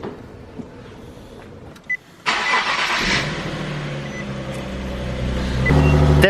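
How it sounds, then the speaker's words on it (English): A Nissan 370Z with its stock exhaust cranks over and fires up from cold, a loud starter whir giving way to a steady, deep idle that builds and grows louder toward the end, with no talking. "Or last cold start with the stock exhaust."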